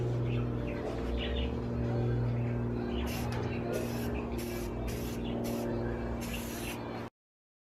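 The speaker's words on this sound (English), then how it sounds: "I'm just gonna be hitting it with some self-etching primer. First coat, just make it a light coat." Self-etching primer is sprayed as a light first coat onto a chrome bumper: around six hissing passes come in bursts over a loud, steady machine drone, then the sound cuts off abruptly.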